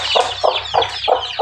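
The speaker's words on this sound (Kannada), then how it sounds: "ಕೋಳಿ ಮರಿಗಳೇ" Chicks cluck nearby in a steady run of short, loud calls, roughly three a second, with nothing else heard over them.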